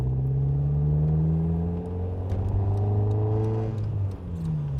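A 1994 Nissan Pulsar GTI-R with a stock exhaust drives along, its engine humming and climbing in pitch through the gears, then dropping back and pulling again, steady and close from inside the car.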